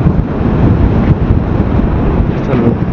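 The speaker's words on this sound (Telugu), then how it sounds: "విండ్ అటు నుంచి ఇటు బాగా వస్తుంది" Strong coastal wind on the road from Kanyakumari toward Dhanushkodi, a loud, constant roaring buffet against the microphone with a deep rumble and no letup.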